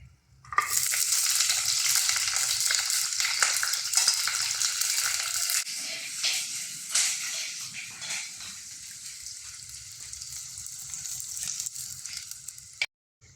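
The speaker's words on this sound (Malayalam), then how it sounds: "ഇനി നമുക്ക് വെളുത്തുള്ളി, ഇഞ്ചി, കറിവേപ്പില ഇട്ട് കൊടുക്കാം." Chopped garlic, ginger and curry leaves drop into hot oil for a Kerala fish curry, bursting into a loud, close sizzle that holds for about twelve seconds with a few stirring knocks before cutting off.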